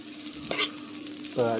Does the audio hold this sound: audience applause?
no